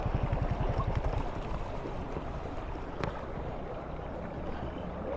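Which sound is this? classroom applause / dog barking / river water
river water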